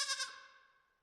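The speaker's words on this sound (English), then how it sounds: "Dude, sheep?" A single sheep bleat from a pixel-art survival horror game, clear and close, with a wavering call that fades out over about a second with no talk.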